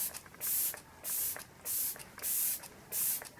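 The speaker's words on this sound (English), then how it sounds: "I'm going to go in with my Glam Glow Glow Setter setting spray" Five short, close hissing puffs of Glam Glow Glow Setter setting spray, evenly spaced about half a second apart, with quiet gaps between bursts.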